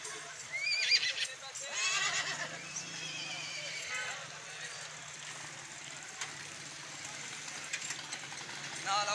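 A horse at a horse market in Faisalabad whinnies and neighs, rising and falling squeals set against general outdoor bustle and people talking nearby.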